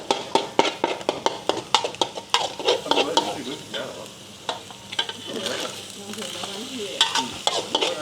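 Eggs sizzling in a pan for egg fried rice while a utensil stirs and scrapes repeatedly, sharp clinks and scrapes over steady frying hiss, close and fairly loud.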